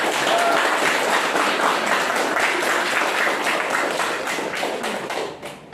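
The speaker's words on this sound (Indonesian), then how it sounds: "Tepuk tangan untuk kita" Applause fills a classroom of students right after the national anthem, a steady dense patter of many hands clapping at close range that fades away at the very end.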